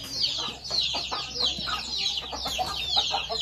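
Chickens cluck nearby in a quick run of repeated short, throaty calls overlapping one another for several seconds, with no speech.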